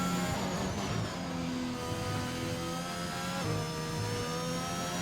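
A racing car engine on a flying lap in a sim racing video game, a loud, steady high-revving whine with rising gear pitch sweeps and brief shifts, heard alone.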